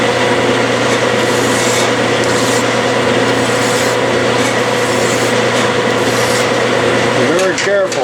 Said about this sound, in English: Be very careful when filing on the lathe.